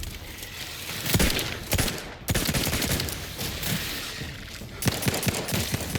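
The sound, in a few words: gun firing in the video game The Outer Worlds 2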